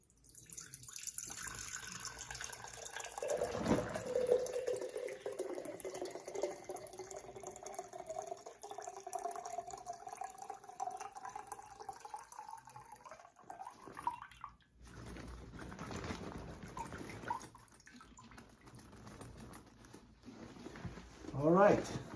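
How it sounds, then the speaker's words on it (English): Meltwater from ice is poured out of a LifeWit soft cooler into a jar, giving a thin, steady trickle of water that runs for several seconds and then tapers off, followed by softer splashing and handling noise. "to hold back the ice and pour that in."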